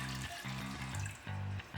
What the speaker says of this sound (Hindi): अब हम इसके अंदर पास्ता का पानी शामिल करेंगे, तकरीबन 1 गिलास।